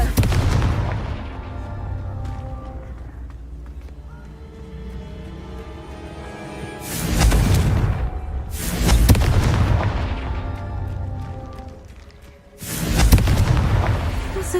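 In Hogwarts Legacy, a Confringo blasting curse explodes in three heavy, booming blasts with rumbling tails over a steady game ambience, each burst loud and close.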